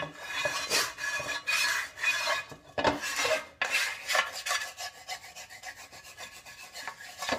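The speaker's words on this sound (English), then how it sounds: "I'm using that to scrape the bottom of the skillet to get anything that's stuck on the surface" A plastic scraper rasping across the bottom of a cast iron skillet in repeated close, loud strokes, each scrape a gritty rub separated by brief pauses.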